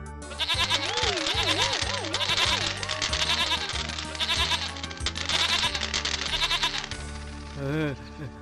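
A goat bleats in wavering, drawn-out cries over steady background music in an animated Hindi story, loud and continuous.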